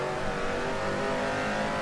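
A 1970s Formula 1 car engine drones loudly and steadily at close range for the whole moment, a dense continuous mechanical roar with no voices.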